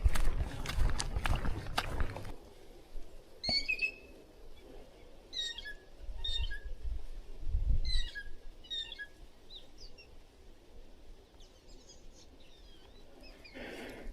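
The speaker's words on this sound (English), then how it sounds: "You guys hear that bird?" A bird calls repeatedly along a cypress trail in Florida, its sharp chirps coming in short bursts at moderate distance over quiet woodland ambience, with some louder handling noise at the start.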